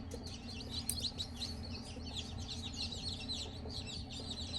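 Small bantam-sized chickens in a little coop cluck and chirp repeatedly at close range over a steady low hum, with no talk.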